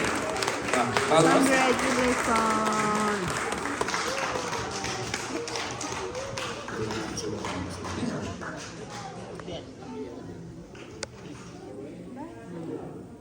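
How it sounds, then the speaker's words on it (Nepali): Wedding guests clapping at a cake cutting, lively clapping and tapping early that thins and fades out over the second half, with voices talking and chatter throughout the room. "ताली ताली बजाउँछ हामी"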